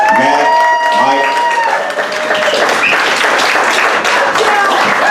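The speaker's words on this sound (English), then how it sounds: "Another round of applause, please" Live audience applauding at a small club gig, a sustained wash of claps and crowd noise that follows a voice calling out and carries on loud and steady after he stops.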